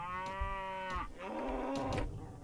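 Cattle mooing in the video game Mount & Blade Warsword Conquest: two loud, drawn-out moos in close succession, each a sustained harmonic low call, heard up close with no talking.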